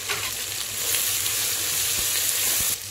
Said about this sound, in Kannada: ಇವಾಗ ಇದಕ್ಕೆ ಪುದೀನ ಮತ್ತು ಮೆಂತ್ಯ ಸೊಪ್ಪು ಕೂಡ ಹಾಕ್ಕೊಂಡು ಫ್ರೈ ಮಾಡಬೇಕು.